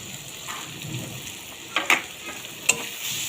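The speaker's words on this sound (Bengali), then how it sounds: "ভালো করে কষিয়ে নিতে হবে।" Chilli powder and turmeric sautéing in hot oil for a rohu fish curry, giving a faint low sizzle with a few sharp scraping stirs and clinks of the spatula against the pan.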